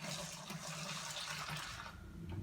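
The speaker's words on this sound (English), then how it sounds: "we're first going to put our warm water in, and you're going to fill it about halfway." Warm water is poured through a funnel into a bottle in a steady, continuous stream that runs for about two seconds and then tapers off.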